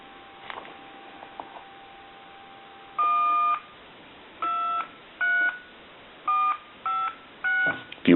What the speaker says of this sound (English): we'll go ahead and dial some numbers here